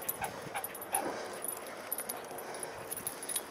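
A dog whimpering faintly at night during an outdoor search, with soft, brief whines and small yips scattered over a quiet background hiss, the dog fairly close but low in level.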